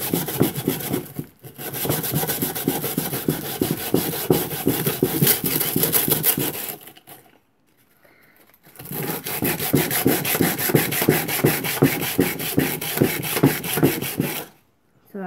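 A wooden step stool is sanded down by hand before repainting, loud close rhythmic scraping strokes in two long runs with a brief pause between them.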